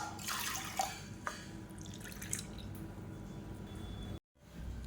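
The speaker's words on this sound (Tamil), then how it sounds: "அதே கப்பில் அதில் ஒரு 5 கப் அளவுக்கு தண்ணி சேர்த்துக்கலாம்" Water trickles and splashes into a cooking pot for making pongal, with a few brief louder pours and a short cut near the end.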